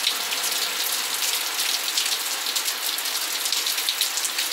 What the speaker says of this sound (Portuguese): Olha só, muita chuva aqui, ó.